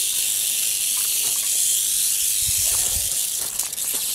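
A large western diamondback rattlesnake, found in January, rattles with a steady, continuous hissing buzz that holds close and loud throughout. No voices are heard over it.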